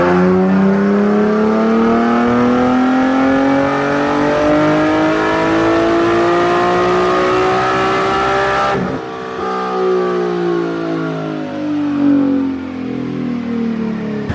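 Tuned Infiniti G37 with an upgraded fuel pump revving hard on a dyno, one long rising pull climbing steadily in pitch, then a sharp cutoff and the engine falling back with lower rumbling, loud and close with no talk.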